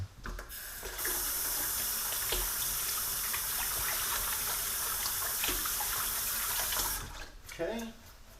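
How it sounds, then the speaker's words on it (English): Tap water runs in a steady, fairly loud gush while hands are washed at a kitchen sink before preparing chili, starting after a brief knock and stopping about a second before the end. "So, first, wash our hands."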